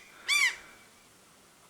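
A gull near its nest on a house's slate roof lets out one loud, harsh call, and a second call starts just as the sound ends.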